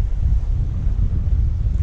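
Strong wind of 20 to 25 knots on a sailboat at sea, a steady low rumbling roar of wind buffeting the microphone with no break, loud and close throughout, and water washing underneath.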